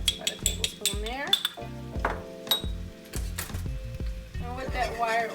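A wire whisk clinks and scrapes against a pan, stirring flour into a butter and olive oil mixture to make a roux, with repeated rhythmic metallic strokes close up and a voice talking partway through.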